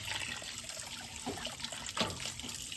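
Tap water running and trickling while raw chicken pieces are rinsed one at a time in a village kitchen, a steady close splashing with a few louder spurts and no talk.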